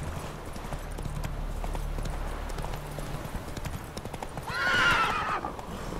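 Hooves clip-clop in a steady gallop, then a loud bright whinny rises near the end. The horse is Roach in the video game The Witcher 3. Only game sound is heard.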